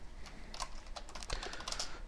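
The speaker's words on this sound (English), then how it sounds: "I have to apologize if my typing is atrocious" Rapid typing on a computer keyboard, with an irregular patter of close, crisp key clicks and occasional heavier keystrokes running steadily for about two seconds with no talking.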